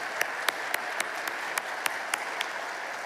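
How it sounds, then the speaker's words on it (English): An audience applauds steadily at a municipal fall convention in Alberta, a dense wash of clapping that holds at moderate level for about three seconds, with a few sharper individual claps standing out at regular intervals. "And one more round of applause,"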